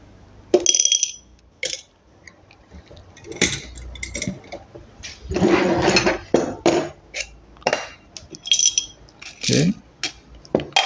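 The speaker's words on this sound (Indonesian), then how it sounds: "kita coba isi dulu biji kopinya ala kadar aja" Coffee beans fed into a cheap grinder meant for moka pot coffee, with scattered clinks and rattles of beans against metal and plastic in irregular bursts, close by, while a person talks in between.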